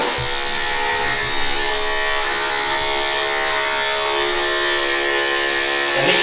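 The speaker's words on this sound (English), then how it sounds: "We're going to clip with a 40 blade clipper." Electric clipper fitted with a 40 blade shaving the hair on a horse's lower limb, a steady close buzzing drone that runs continuously without pause, rising slightly in intensity partway through.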